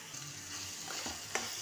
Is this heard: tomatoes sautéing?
yes